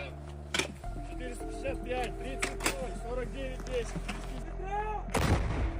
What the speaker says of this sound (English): Artillery units of the Dare group covered the hiding places of Ukrainian soldiers with intense fire.